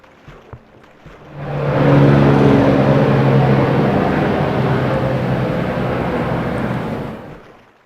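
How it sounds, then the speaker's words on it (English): An airplane passes overhead near an airport, its broad engine roar swelling in after a second, holding loud and steady for several seconds, then easing away at the end. "Is a plane gonna fly into me? Did you guys hear that?"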